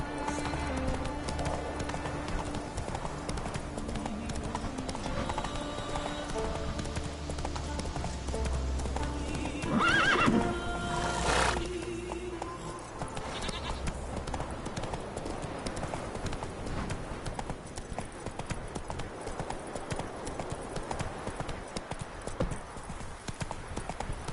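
Roach the horse galloping in The Witcher 3, a steady rapid clip-clop of hooves running continuously, with a brief whinny and a voice speaking partway through.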